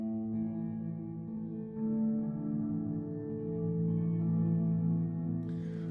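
Bass guitar runs through the long, cavernous Deep Space reverb on a Fractal AX8 effects unit, its sustained low notes blurring and overlapping into a smooth ringing wash that swells gently.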